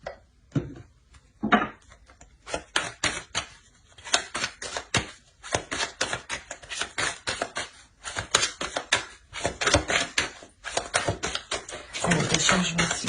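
Tarot cards being handled and laid out on a table: a steady run of quick soft taps, flicks and slaps, close and clear, with a brief shuffle-like burst near the end.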